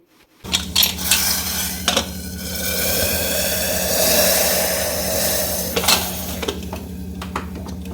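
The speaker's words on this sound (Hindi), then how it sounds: "अब मैं डायरेक्ट इसको कुकर में डाल दूँगी।" Hot tempering with asafoetida poured into a pressure cooker, with a sustained sizzling hiss, clanks of metal pots and a steady low hum underneath.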